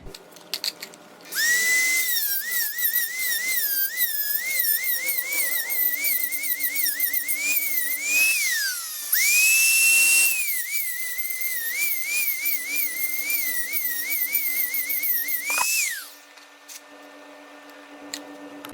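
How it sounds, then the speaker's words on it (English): A Dremel rotary tool grinds down nubs on a KAAZ limited-slip differential for a 2015+ Subaru WRX, a steady high-pitched whine running close and loud for several seconds, briefly dropping out and restarting. "cut off this little nub right here and grind down the nubs"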